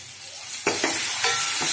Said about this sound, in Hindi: बारीक कटा हुआ टमाटर डाल दिया मैंने।